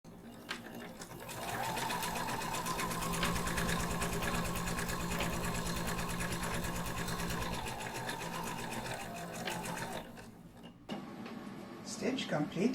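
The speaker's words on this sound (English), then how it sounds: "now stitch this side with a 1/4 inch seam allowance" A sewing machine stitches a quarter-inch seam on a shoulder bag, humming and ticking rapidly up close for about nine seconds before stopping, followed by faint handling noises.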